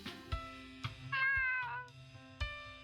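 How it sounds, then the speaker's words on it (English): A cat meowing in the game Fatal Twelve, several clear, close meows with a drawn-out tonal cry in the middle, over soft background music. "That's a cute cat, though."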